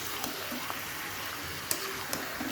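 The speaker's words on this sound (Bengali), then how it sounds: "এবারে মশলাটা দিয়ে একবারে একটু নেড়ে চেড়ে নেব" Chicken coated in spices is turned over in a hot pan, giving a soft, steady sizzle with a few faint clicks from the utensil.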